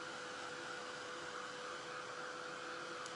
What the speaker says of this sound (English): I'm going to go ahead and take my heat gun and dry this a little bit